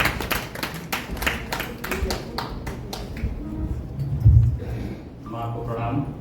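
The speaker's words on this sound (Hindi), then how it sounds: "एक बार तालियां हो जाएं" Audience clapping for comic poet Pankaj Johari at a poetry competition, a burst of dense applause in the first three seconds that thins out and gives way to murmuring crowd noise and a low hum.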